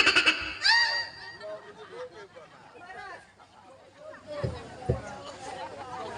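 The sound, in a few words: person imitating a goat bleating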